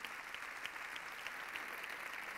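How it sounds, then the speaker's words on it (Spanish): Faint, distant applause from the audience at a sports awards gala in San Sebastián de los Reyes, a continuous patter of many hands with no talk over it. "Fuerte aplauso para José."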